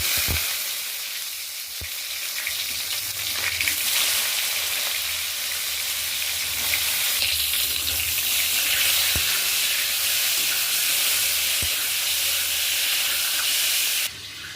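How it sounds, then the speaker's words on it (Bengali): Peeled, salted pointed gourds (potol) fry in hot oil, giving a steady close sizzle and hiss with a few clinks of a utensil and no talking. "এবার তেল গরম করে আমি পটলগুলো ভেজে নিচ্ছি।"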